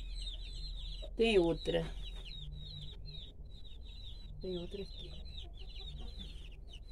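Hens clucking inside a chicken coop where they nest, lay eggs and hatch chicks: a few close, throaty clucks stand out over constant high chirping from chicks, while someone speaks briefly.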